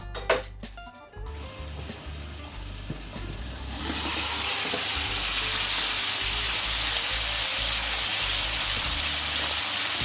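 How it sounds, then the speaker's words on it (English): Crabs frying in a pan for Nigerian seafood fried rice: a few sharp clicks at first, then a loud, steady, broadband sizzle that swells after a few seconds and holds, with low background sound underneath. "so I'm going to leave the crabs to get fried for 5 minutes."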